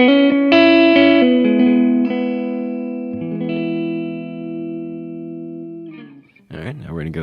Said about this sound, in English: Parameter 2 right now is set on studio, so you're going to get an idea of what a studio room would sound like.